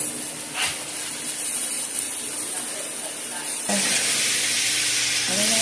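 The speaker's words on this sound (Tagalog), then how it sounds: "Ngayon, nilagay na natin yung bawang." Garlic sizzles in oil in a frying pan for a ground meat and egg dish, a steady crackling hiss that grows louder partway through, with someone talking over it.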